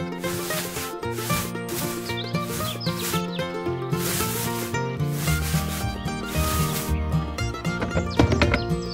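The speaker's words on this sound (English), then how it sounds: "Put the sheep's wool into the machine." A wool pressing machine processing sheep's wool rumbles and rasps continuously with a gritty rubbing texture layered over a busy tonal background, steady and fairly loud throughout.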